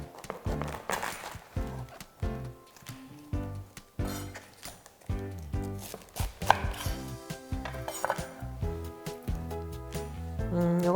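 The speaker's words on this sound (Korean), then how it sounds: "이것도 먹기 좋게 그냥 가늘게 채 썰어 주겠습니다." A knife chops red cabbage into thin strips on a cutting board, giving rapid, rhythmic close knocks that run in bursts with short pauses, and no voices.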